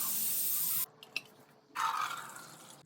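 Water gushes into a pot of lentils in two bursts with a brief pause and a small clink between them, close and fairly loud.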